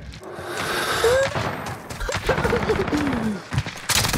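Sniper gunfire in a first-person shooter game, sharp shots and booms mixed with game sound effects and someone talking over the action.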